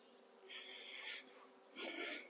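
Honey bees returning to a hive buzz in two louder bursts over a steady low hum, near and continuous, around a colony with a dead, failed queen.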